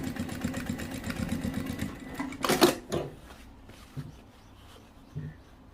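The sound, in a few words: sewing machine test stitching on jeans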